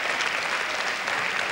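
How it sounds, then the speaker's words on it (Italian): Brief burst of dense audience applause in a TV studio, loud and steady throughout with no talk over it. "Un altro applauso a lei"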